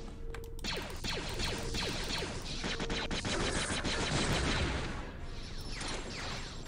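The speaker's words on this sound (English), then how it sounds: "He is using that rifle on auto-fire" Automatic rifle fire in Star Wars Jedi Outcast: long rapid bursts of shots crackle densely and loudly, close up, with brief pauses and a short lull near the end, with no voices.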